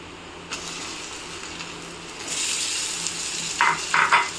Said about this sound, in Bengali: এখন এখানে আমি মাছগুলো দিয়ে দিব